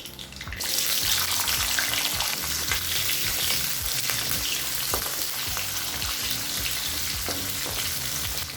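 Half a cup of small onions is dropped into hot oil already seasoned with fenugreek, asafoetida and curry leaves for a garlic-pepper kuzhambu, starting a loud, continuous sizzle right up close with faint scraping of stirring and no talking.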